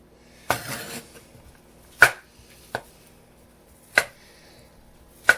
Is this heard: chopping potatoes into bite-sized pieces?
yes